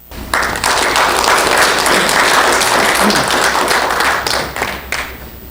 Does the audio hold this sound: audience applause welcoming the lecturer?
yes